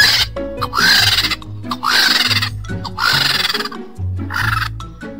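A vulture calls in four loud, harsh, drawn-out cries, each about a second long and separated by short gaps, sounding close and clear with no voices.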